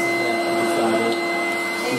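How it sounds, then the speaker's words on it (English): A vacuum cleaner hoovers indoors with a loud, steady motor whine and airy roar that holds constant throughout, with no voices. "Today we find Lily up in the morning and Harry hoovering."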